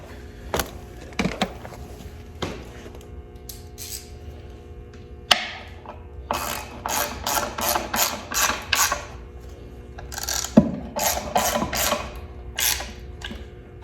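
A ratchet wrench drives in bolts holding a transmission on a Model T hot rod hearse build, giving bursts of quick, close clicks with brief pauses between them.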